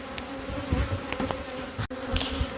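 Honeybees buzz in a dense, continuous drone during relocation of a beehive from a roof cavity, with soft handling knocks and an occasional click beneath the hum.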